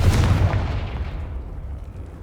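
A Confringo fire spell blast in Hogwarts Legacy, a single loud booming explosion that bursts at once and then decays into a fading rumble, heard alone without talk.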